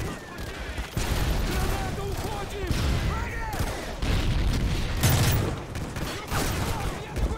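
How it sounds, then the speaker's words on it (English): A grenade explodes amid gunfire in Call of Duty Modern Warfare 3, with loud booms and crackling bursts of shots recurring through the scene while a voice speaks over the battle noise. "Uh-oh, grenade."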